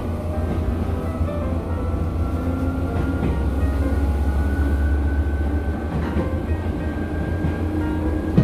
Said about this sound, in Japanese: 列車は小丸駅に到着です。